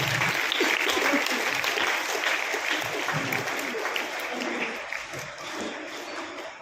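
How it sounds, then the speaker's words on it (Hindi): An audience applauds students honored for outstanding 10th and 12th board exam results at a school award ceremony, with dense, steady clapping filling the whole stretch and gradually easing toward the end. "एक बार जोरदार तालियां उन बच्चों को।"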